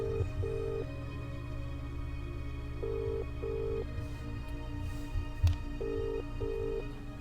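A phone call ringing inside the video game The Dark Side of The Moon, three evenly spaced double-pulse rings over a low steady hum, no answer and no talking.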